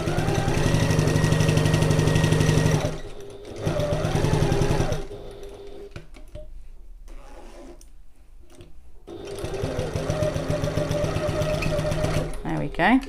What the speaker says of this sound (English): I am going to back stitch at the start and the end of this one.